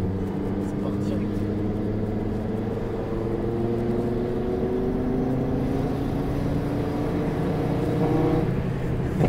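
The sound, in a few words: car accelerating hard in a launch start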